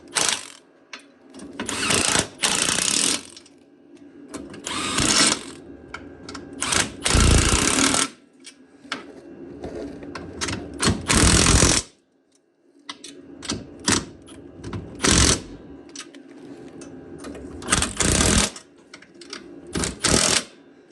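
A Milwaukee impact driver on its middle setting tightening bolts on a plow mount for a Yamaha Grizzly ATV, several loud bursts of rapid hammering rattle separated by short pauses, close and without talk.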